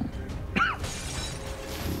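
Glass windows shattering in XCOM 2, a single sharp crash with tinkling shards near the start, followed by low game ambience.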